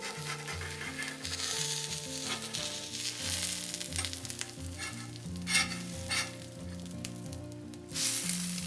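Pancake frying on a Steelmade griddle, a steady close sizzle with scraping of a spatula sliding underneath and a flip, over soft background music.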